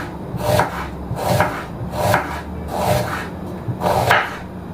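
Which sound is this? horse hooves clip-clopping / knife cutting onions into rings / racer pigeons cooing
knife cutting onions into rings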